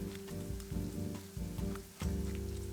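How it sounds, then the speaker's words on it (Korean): Tofu slices pan-frying in oil in a small frying pan, for braised tofu with doenjang sauce, giving a steady close sizzle with crackling pops and a few brief shifts as pieces are moved or added. "프라이팬이 작아서 나눠서 부쳐주었습니다"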